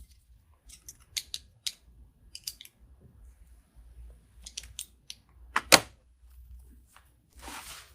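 Scissors snip deco mesh held in a pipe cleaner for a farmhouse calf wreath, making a series of sharp, close clicks and snips with quiet pauses between them and one louder cut near the end.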